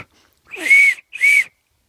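Breath blown into a car exhaust turbo whistle gives two clear, loud whistling tones, each under half a second, separated by a short pause, with silence around them.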